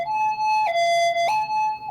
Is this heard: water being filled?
no